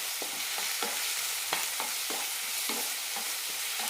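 Chopped tomato and crushed masala sauté in a pan for a soursop curry: a steady soft sizzle broken by regular scraping strokes of a spoon, close and fairly quiet, with no talking.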